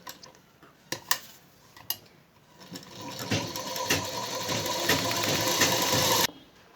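A sewing machine stitches a blouse, starting with a few sharp clicks and taps, then running in a steady, fast, loud mechanical whir for several seconds before stopping abruptly.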